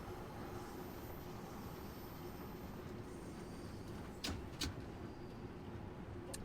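A train runs steeply downhill toward Piccadilly Circus in Train Sim World 2, giving a continuous low rumble of wheels and motor with a couple of brief sharp squeaks partway through.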